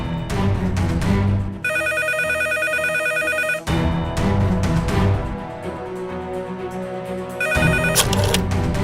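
A loud electronic telephone ring repeats in bursts, cutting in and out over a busy background of music and noise.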